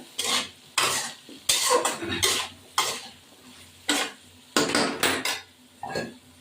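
A spatula stirs prawn curry with ridge gourd and coriander powder in a pan, with about eight loud, close scraping strokes in irregular bursts over a soft sizzle.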